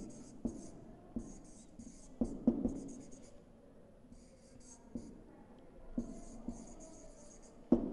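Chalk or marker strokes from a teacher writing an example sentence on a board during an English grammar lesson, a series of short taps and scratches spaced irregularly, fairly close, with faint background hiss.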